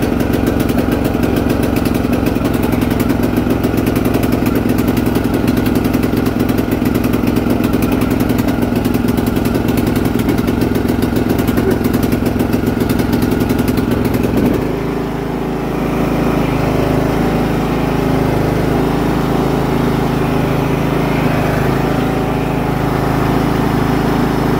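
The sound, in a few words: Husqvarna YTH18542 riding lawn mower engine running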